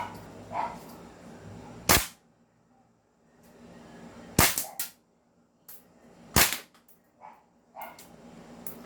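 Gas blowback airsoft rifle with steel CNC fire control group and upgraded bolt firing four sharp, loud single shots at irregular intervals, with quiet handling noises and clicks in between.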